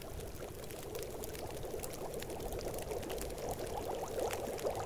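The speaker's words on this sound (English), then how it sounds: "I'm gonna make a nice cup of coffee." Water pouring steadily while coffee is made on a stove in The Long Dark survival video game, a continuous close splashing flow at low level with no talk over it.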